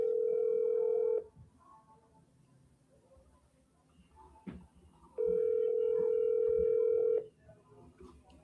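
A telephone line plays a steady dial tone for about a second, goes quiet with faint clicks and a brief keypress beep, then the dial tone returns for two more seconds.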